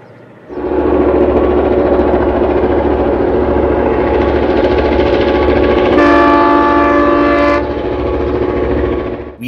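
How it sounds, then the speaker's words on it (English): Freight train led by a massive lashup of seven F-unit diesel locomotives rolling near Dunsmuir on the Shasta Route, a loud steady diesel roar and rumble close by, with a sustained multi-tone air horn blast sounding for about a second and a half midway. "Give quick chase to this freight into Dunsmuir with this massive lashup of 7 F units at the head end."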